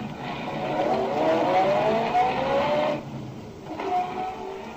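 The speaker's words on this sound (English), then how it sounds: "I got in my car, drove down to Walnut Street." A car drives along in a 1940s radio detective drama, its engine droning steadily with a rising whine, then a brief pause before the motor picks up again.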